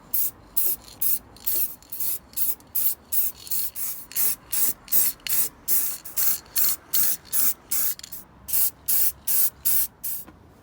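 Rust-killer paint is sprayed from an aerosol can onto car parts during a Ford ST170 restoration. Short, close, crisp hissing bursts repeat in a quick, steady on-off rhythm with brief silent gaps, and no voices are heard.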